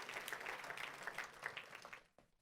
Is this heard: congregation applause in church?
yes